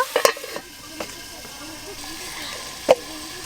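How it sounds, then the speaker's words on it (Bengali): Potatoes seasoned with turmeric and salt sizzle in a covered pan, a soft steady frying hiss broken by a few sharp clicks and knocks of utensils. "চাপা দিয়ে আলুগুলো একটু ভালো করে ভাজা ভাজা করব"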